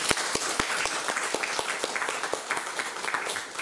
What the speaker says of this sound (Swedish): Vi välkomnar Daniel med en applåd